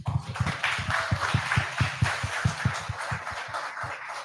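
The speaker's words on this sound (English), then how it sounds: "Clap it up for that." A handful of webinar participants clap for about four seconds, the claps fairly close, uneven and sparse rather than a full ovation, with no talking.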